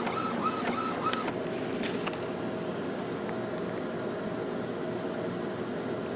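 An Epson WorkForce WF-2630 inkjet printer with refilled ink cartridges runs, giving a few short mechanical whirs and clicks at first, then settling into a steady low hum.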